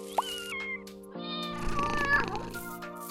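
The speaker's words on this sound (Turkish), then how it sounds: "Minik bir kedi yaptık." A cat meows in several drawn-out, tonal, wavering cries that rise and fall, close and clear. Short pauses separate the cries, and there is no other sound around them.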